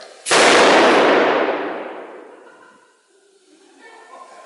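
A single large gun nicknamed Thumper fires with one loud close boom whose broad roar decays slowly over a couple of seconds, followed by faint outdoor sounds.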